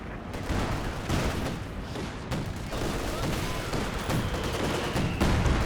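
Flak panzer firing amid a Company of Heroes 2 battle: a dense stream of rapid gunfire bursts and booms, with sharp reports recurring throughout over a rumbling combat backdrop and occasional commentary voice.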